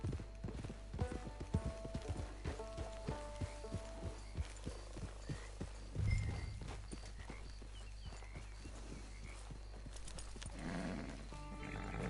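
Hooves of a horse in the video game Red Dead Online clip-clop in a steady walking rhythm, close and distinct, with a brief whinny-like burst midway and faint ambient game sounds.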